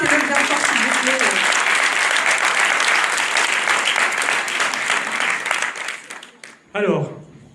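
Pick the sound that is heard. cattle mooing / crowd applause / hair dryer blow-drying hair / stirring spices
crowd applause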